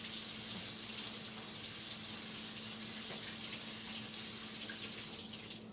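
Canned chickpeas are rinsed under a running kitchen tap, a steady, even gush of water splashing into a sink, continuous and moderately quiet with no talk.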